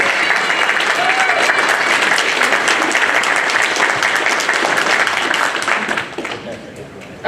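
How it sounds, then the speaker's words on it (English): Loud, dense applause from a large crowd at a wedding continues without a break, tapering off slightly near the end. "probably like a round of applause."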